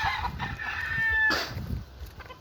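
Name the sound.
fighting rooster crowing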